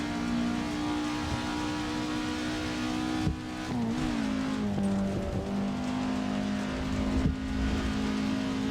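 A car in a racing simulator, its engine holding a steady drone that rises and dips as it shifts, with a brief tire squeal midway; loud, constant and without voices.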